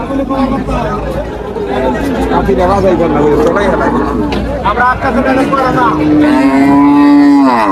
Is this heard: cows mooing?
yes